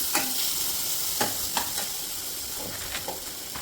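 Pizza topping sautéing in an oil-slicked pan, a steady soft sizzle with a few sharp scrapes and taps of a spoon against the pan scattered through.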